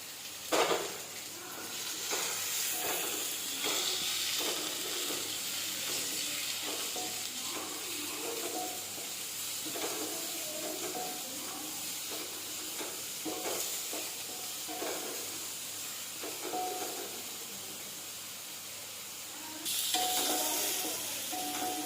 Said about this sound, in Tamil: ஒரு மீடியம் சைஸ் வெங்காயம் பொடியாக கட் பண்ணி வச்சுருக்கேன், அதையும் இது கூட சேர்த்துக்கலாம்.